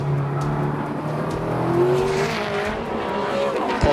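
A Chevrolet Corvette race car at a time attack event, its engine droning loudly and holding a high pitch that climbs, with faint tire noise and no talk.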